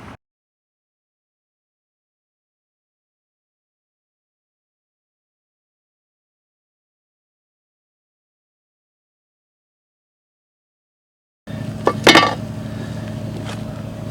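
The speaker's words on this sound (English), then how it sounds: "So I'm going to mix this pretty thick" Thick epoxy resin being stirred together with its hardener for a sailboat hull fitting repair; a long silence gives way near the end to a sharp scrape and clink, then steady close stirring noise.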